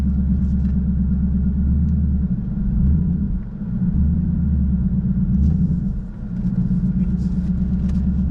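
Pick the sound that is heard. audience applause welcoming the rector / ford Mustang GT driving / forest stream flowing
ford Mustang GT driving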